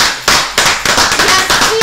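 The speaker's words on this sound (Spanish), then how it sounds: "aplausos, gritos y ovación para esta gente maravillosa" Loud crowd applause and cheering at a rugby club event, a dense wash of clapping and shouts that swells in repeated bursts, no talking.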